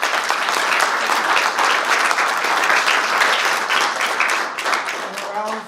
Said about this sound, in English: Let's give these two gentlemen a round of applause.